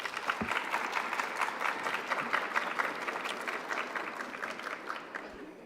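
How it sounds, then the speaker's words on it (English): Graduates at an online graduation ceremony applaud their loved ones with a steady, moderately loud round of clapping that fades gradually toward the end. "Graduates, can you please give your loved ones a big round of applause?"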